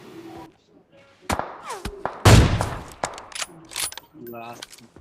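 AWM sniper rifle fire in PUBG gameplay, one loud sharp shot with a ringing tail, surrounded by clicks, bolt and reload mechanisms and other brief game effects.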